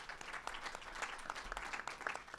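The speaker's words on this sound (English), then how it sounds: "So I'm gonna give Andrew and his team a round of applause." Scattered applause from a small town hall audience at Kean University, individual claps distinctly separated in an uneven, modest patter, quiet and somewhat distant throughout.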